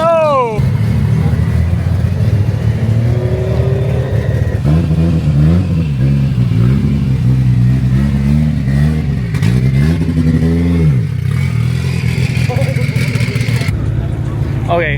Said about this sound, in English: Nothing sounds like like an LS, man.